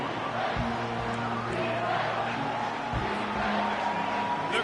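A stadium crowd at a college football game, Ducks versus UT, gives a sustained loud, dense roar that holds steady throughout, with faint thuds beneath.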